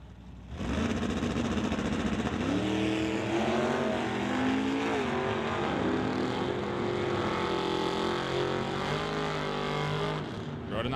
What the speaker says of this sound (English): Rodenizer trying to chase down the wheel standing Barracuda.